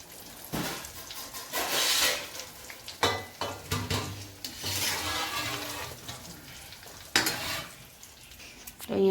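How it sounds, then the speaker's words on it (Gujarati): Bhature, street-style fried bread served with chole, sizzle and hiss in hot oil in a home kitchen, a continuous frying crackle broken by a few louder clatters of utensils. "અહીંયા જોઈ શકો છો કે સરસ મજાના ભટુરે ઉતારવાના ચાલુ થઈ ગયા છે"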